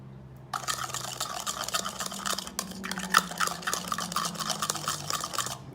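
Himalayan salt and water being stirred and blended into a hand soap mixture, a close, busy scraping and sloshing with gritty clicks that keeps going without talk.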